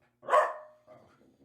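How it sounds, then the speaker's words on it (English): A dog gives one sharp bark followed by softer whimpering growls, fairly close and alone, during a scuffle between dogs. "Hey, dogs, stop fighting."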